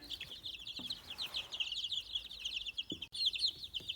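Young chicks in a brooder, nearly three weeks old, keep up a continuous high-pitched peeping and chirping close by, a busy overlapping chorus with no talking.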